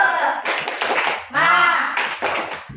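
A classroom of students performs a rhythmic spirit-clap routine led by their teacher, with sharp clustered bursts of clapping in a patterned beat, close and loud, broken by a brief shouted voice in the middle.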